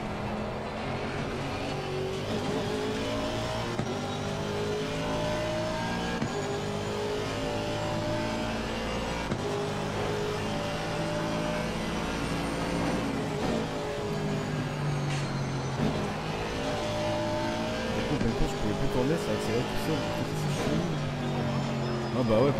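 A race car in Assetto Corsa Competizione at Brands Hatch drones and revs continuously, engine pitch climbing and falling through gear changes, steady and moderately loud throughout with no pauses.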